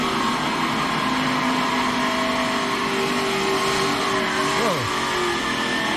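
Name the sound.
NASCAR race car going by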